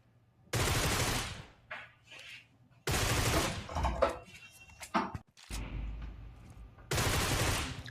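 Video game gunfire from an MG3 machine gun or P90, loud bursts of rapid automatic fire broken by short pauses and fainter clicks and clatter in between.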